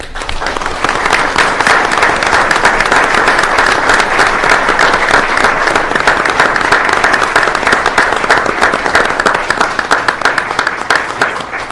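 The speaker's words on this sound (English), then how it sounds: "clapping for Cecil" A room of people at a school board meeting applaud a custodial supervisor, producing a loud, sustained wash of many hands clapping that holds steady for about ten seconds before easing slightly at the end.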